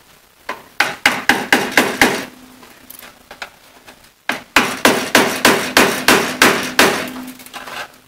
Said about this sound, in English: I'm going to use a screwdriver just to break these final little ones loose